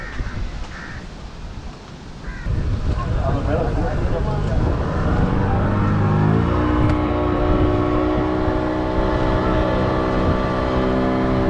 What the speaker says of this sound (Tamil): இங்கே சுண்ணாம்பூர் போட் ஹவுஸ்லேருந்து போட்டு கிளம்பிடுச்சு